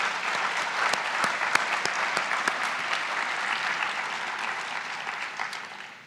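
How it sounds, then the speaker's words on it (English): Sustained audience applause at a university graduate research talk showcase final, steady and full for about six seconds with a few sharper individual claps, easing off at the end; no talking. "please give a big round of applause for our final round judges"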